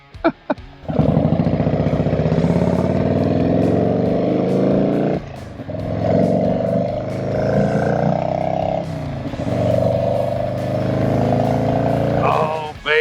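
A 1996 Harley-Davidson Dyna motorcycle engine drones steadily while riding, revving up and down between gear shifts, loud and close throughout.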